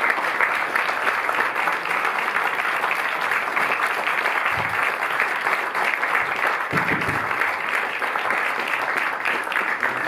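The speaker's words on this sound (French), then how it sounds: "Je vous demande un applaudissement, s'il vous plaît." Sustained applause from a cinema audience after a film screening, a dense, steady roar of many hands clapping that holds at an even level for about ten seconds with no voices over it.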